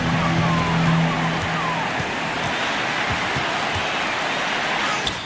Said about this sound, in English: you gotta love hearing a crowd get this fired up